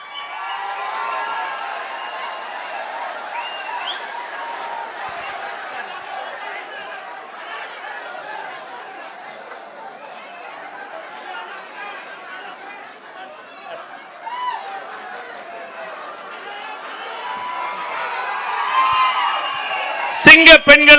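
Women at a political meeting for the TVK party cheer and shout in a continuous crowd roar, with clapping swelling near the end.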